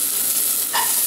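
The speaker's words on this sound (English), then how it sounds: "the onions and garlic are browning very nicely" Onions and garlic brown in a pot for vegetable beef soup with a close, steady sizzle and hiss, and a short stirring scrape partway through.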